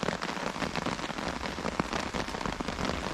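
Steady rain pattering down in woodland at a wild camp, a dense continuous hiss of drops on leaves and surfaces with scattered closer splats, fairly loud and unbroken throughout.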